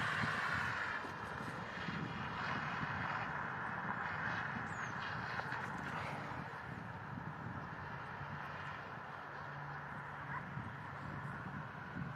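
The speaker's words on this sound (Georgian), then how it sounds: "აი თვითმფრინავის ხმა ისმის" An airplane flies over Mestia in Svaneti on a snowy spring day, a steady, distant engine drone rumbling evenly for the whole stretch with no voices.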